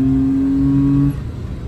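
Suzuki Mira 2011 automatic engine swapped into a Hyundai Santro, running near and loud with a steady low hum that cuts off abruptly after about a second, followed by quieter rumble.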